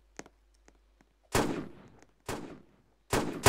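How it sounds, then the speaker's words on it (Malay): Gunfire in the Roblox video game comes as three loud, sharp shots spaced about a second apart, each with a short decaying tail, after a few faint clicks. "Headshot, Timmy."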